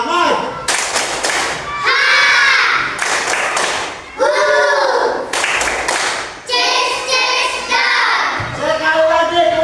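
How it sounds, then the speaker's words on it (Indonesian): A class of students does a rhythmic 'tepuk semangat' clapping chant, with bursts of patterned claps alternating with loud group voices in a classroom. "Tepuk semangat."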